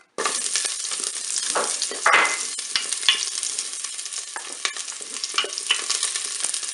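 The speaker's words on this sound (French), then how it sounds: "Là, je vais mettre mes oignons bien dans la cuve." Onions sizzle steadily as they hit hot olive oil in a preheated Cookeo electric pot, a bright continuous frying hiss with occasional stirring scrapes and small crackles throughout.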